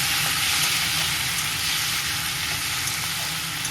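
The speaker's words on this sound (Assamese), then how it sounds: "এইখিনি এতিয়া একেলগে আলুৰ লগতে ভাজি ল'ম।" Continuous crackling sizzle of potatoes and tomatoes frying together in a pan, steady and close, with no voices.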